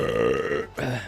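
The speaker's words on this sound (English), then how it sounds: "Burp 1." A single loud, drawn-out burp rumbles up close, breaking off briefly before a shorter second gulp trails away.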